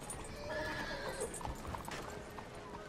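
Horse hooves clip-clop steadily while a horse whinnies in a western open-world video game, with game ambience behind and faint talk.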